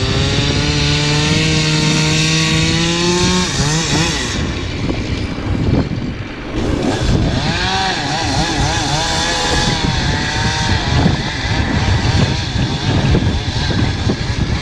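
A chainsaw whines at high revs, then bogs down and rises again as it bites into a walnut log, loud and close throughout.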